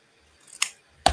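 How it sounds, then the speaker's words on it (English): Two crisp snips of ribbon scissors trimming ribbon, a lighter one followed by a sharper, louder cut, close by in a quiet room. "Now I can take my ribbon scissors and just trim this."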